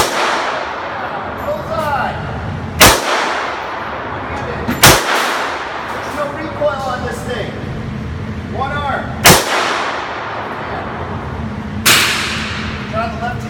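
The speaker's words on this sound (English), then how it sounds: "I'm going to shoot the last 10 rounds out of this magazine here" Walther Uzi pistol firing single shots, four loud sharp cracks spaced a few seconds apart outdoors, with someone talking between the shots.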